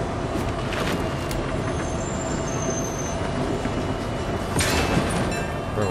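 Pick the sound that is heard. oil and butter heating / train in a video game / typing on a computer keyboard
train in a video game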